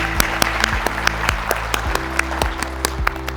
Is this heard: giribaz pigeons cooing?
no